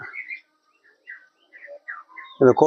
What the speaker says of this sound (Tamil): இந்த ஊர்ல பாருங்க பறவைகள் சத்தத்தை கேளுங்க, எவ்வளவு அழகா அந்த ஊரை சுத்தி பறவைகள் சத்தம் நல்லா இருக்கு